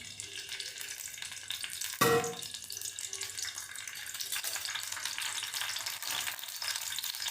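Curry leaves drop into hot oil in a pan, set for a ghevada bean dish. A sudden sharp burst of spitting comes first, then a softer steady sizzle continues close by at moderate volume.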